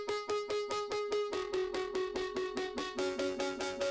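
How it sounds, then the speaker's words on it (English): A Logic stock tremolo on a distorted tape delay chops sustained notes into a fast, even pulse, with the pitch shifting a few times as the throbbing pattern repeats closely and alone. "I'll put on this this stock tremolo"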